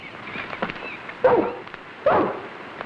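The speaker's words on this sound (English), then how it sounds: "His barking's the best sound we've heard for hours." A dog barks twice from nearby, two separate loud bursts over soft background noise, in an outdoor setting near a cabin.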